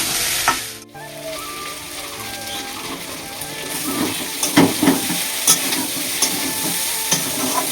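Ingredients for a Bengali tel chorchori fry in oil in a pan, hissing and sizzling loudly and steadily, with a scattering of scraping and clattering stirs over the constant bubbling.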